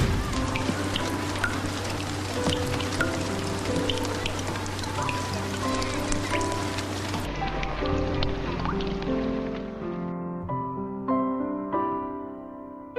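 Rain falls in a scene from the Korean film Christmas in August, a dense patter of drops mixed with a low rumble, then the patter thins out as sustained tonal music rises and takes over.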